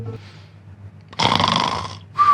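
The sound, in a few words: person imitating snoring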